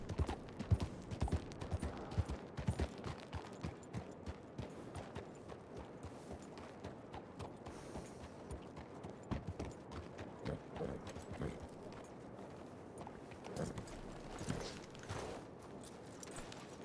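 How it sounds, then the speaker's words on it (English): Horses clip-clop at a walk in a video game, the steady hoof rhythm loudest early and continuing under background game sound. "Ooh, horses."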